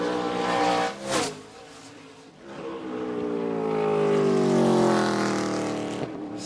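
A NASCAR Craftsman Truck Series race truck at Indianapolis Raceway Park during practice and qualifying, its engine roaring on track with a rising then easing throttle note that swells loud mid-run, no talk over it.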